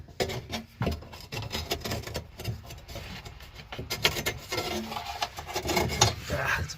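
Scribing a metal patch panel to fit a car body produces close, irregular scratching and rasping strokes in uneven bursts, with occasional light knocks.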